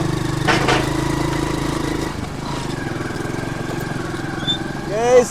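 Soil-cutting machinery works the roadside during NH66 highway construction in Malappuram, producing a steady, close engine drone with a rising mechanical whine near the end.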